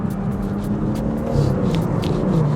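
A BMW M140i engine accelerates with a steady, close low rumble that swells slightly partway through, as if revving harder, with no talk over it.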